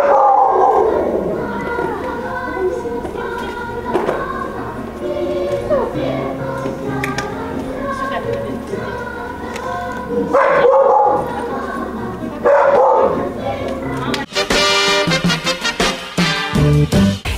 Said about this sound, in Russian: Собачка Энтльбухер